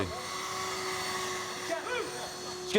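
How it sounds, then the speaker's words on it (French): An electric water pump runs at a Roma camp, producing a steady low mechanical hum throughout, with faint voices and brief shuffling noises over it. "Il y a la pompe là-bas. Elle va chercher de l'eau, elle marche à l'électricité."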